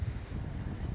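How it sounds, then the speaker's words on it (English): Wind gusting across an outdoor garden bed in spring, a low steady rumble buffeting the microphone for under a second, with no talking. "It's getting kind of windy."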